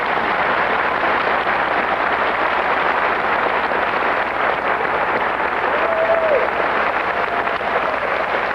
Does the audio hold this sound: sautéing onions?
no